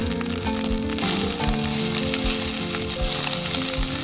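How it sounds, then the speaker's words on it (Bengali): Fried puti fish, pepper powder and green peas going into a pan of village-style pulao, with a loud continuous sizzle and frying crackle over a rhythmic musical backing, no voices. "এর মধ্যে দেবো গোলমরিচ গুঁড়ো, ভেজে রাখা মাছগুলো দিয়ে দেবো।"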